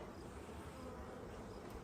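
A close, continuous drone of honeybees clustered on the bottom of a Warré hive frame as they are brushed away, steady and even without breaks.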